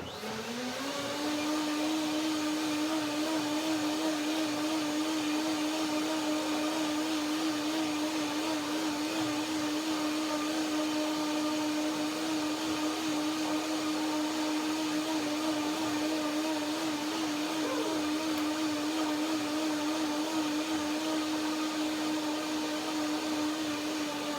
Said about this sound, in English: But first I have to blend one more time my oatmeal with the macadamias.